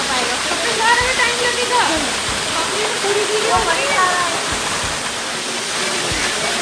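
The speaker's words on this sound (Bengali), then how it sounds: "এই যে ঝর্ণা জল পড়ছে" Durgadhara waterfall at Amarkantak, where water falls onto a Shiva lingam, rushes in a constant broad roar close by, while people talk over it intermittently.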